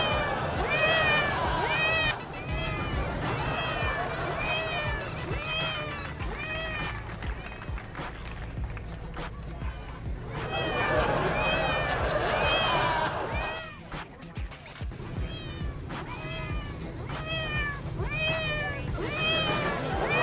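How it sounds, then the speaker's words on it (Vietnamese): Recorded cat meows play from a laptop inside a cardboard box, repeated bursts of mewing over a busy, noisy public background with crowd murmur, continuing steadily across the whole stretch. "tiếng mèo được phát ra bởi chiếc laptop này đây."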